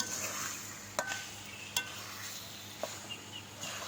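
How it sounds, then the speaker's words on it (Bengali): Beef frying in a pan with the lid lifted, a few sharp clanks of a utensil against the pan breaking through a steady low sizzle, with no voices. "এইভাবে একটু পর পর নাড়তে থাকবো"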